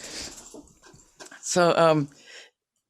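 Dog whimpering close by, a high thin whine rising into a brief pitched cry, heard among quiet background sounds indoors.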